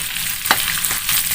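Fish sizzles and spatters in hot oil in a frying pan as it is turned over, a steady bright crackle with a few sharper pops from the flip, close and alone.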